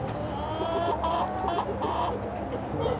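Chickens clucking densely inside a crowded shed, a continuous close chorus of overlapping clucks with no talk.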